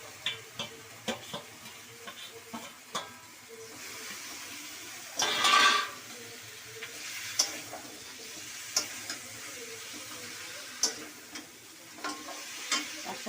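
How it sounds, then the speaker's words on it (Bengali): A rohu fish head dropped into a pan of cooked spice masala, a low continuous sizzle with a brief louder burst as it goes in, followed by light scattered ticks and clinks of stirring. "মশলাটা কষানো হয়ে গেছে, এবার আমি এই মুড়োটা দিয়ে দিলাম"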